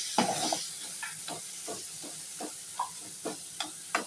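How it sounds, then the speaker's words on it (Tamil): Tomatoes softening in a hot pan, a steady hiss of steam and sizzle with intermittent spoon scrapes and taps spaced through, moderate level, no one speaking. "தக்காளி நல்லா வதங்கட்டும்."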